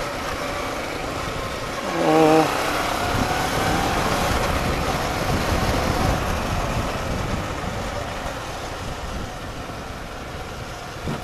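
Steady stream of road traffic with many motorcycles passing on a rainy Philippine road toward Monte Maria, a continuous broadband engine and tire rush that swells briefly near the start, with a short tonal whine early on.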